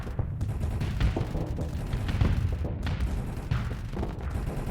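Flak cannons in the space combat game Starsector, rapid, dense bursts of booming fire, continuous and rumbling without any talk.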